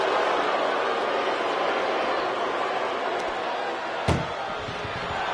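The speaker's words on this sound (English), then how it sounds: "Pushing with every fiber of their being to slam the door." In the WWE 2K24 wrestling video game, an ambulance door slams shut once, a sharp single bang near the end over a steady roaring crowd and commentary.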